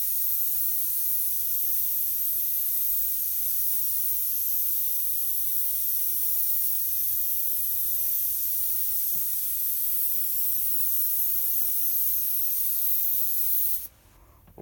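Airbrush spraying paint, a continuous close hiss of air and paint mist held steadily for about fourteen seconds before cutting off abruptly.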